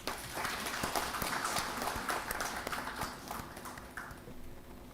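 An audience at a state-level consultation event applauds, a dense, sustained clapping from many hands that holds steady and slowly tapers off.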